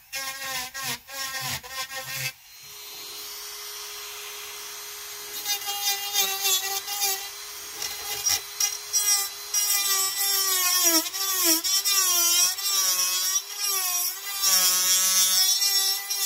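A coarse Kutzall carbide burr in a micro motor carves into wood. A high whine is broken by bursts of rough, chattering grinding as the burr bites, close and loud, alone without speech.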